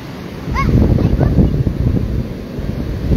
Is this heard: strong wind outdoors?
yes